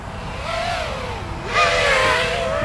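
An FPV drone's brushless motors whine in flight, a steady rising and falling tonal buzz that swells louder and brighter halfway through, heard close with no talk.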